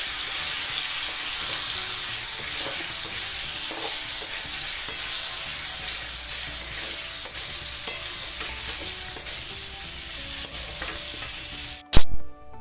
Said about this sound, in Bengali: আলু ফুলকপি ভালো করে কষে নিয়েছি।